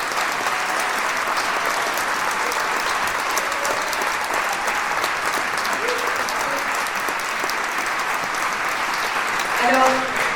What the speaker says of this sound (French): je voudrais que vous les applaudissiez toutes et tous